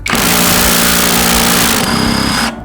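A loud, close power tool tightening a bolt at an auto service station runs in one continuous high-pitched whine, its pitch shifting near the end before it stops abruptly.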